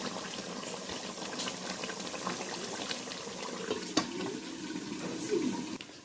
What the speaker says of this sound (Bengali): রাইস কুকারে গোষ্ঠটা বসাই দিলাম